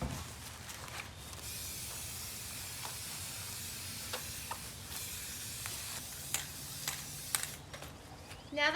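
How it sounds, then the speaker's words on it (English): Gray spray paint hisses from an aerosol can onto a 5-gallon bucket in broad, steady bursts, with soft clicks and handling knocks between passes. "we're going to take our gray spray paint and paint it over"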